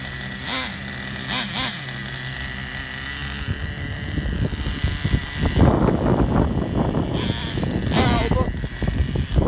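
The nitro engine of a Traxxas T-Maxx Pro 15 RC truck revs up loudly after a quieter opening, running roughly and unevenly nearby with brief talk at the start.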